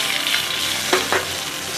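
Two small sausages frying on a Horizon camping stove outdoors, giving a steady close sizzle throughout with two brief louder crackling bursts near the middle.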